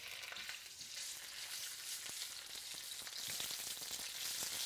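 Red curry paste fries in vegetable oil in a pan, a steady, crackling sizzle with faint stirring clicks, close and continuous.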